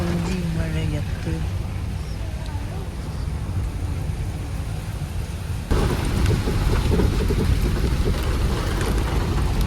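Steady rain falls in a misty, fog-covered outdoor spot, a dense close hiss that swells louder partway through, with a voice faintly present beneath it.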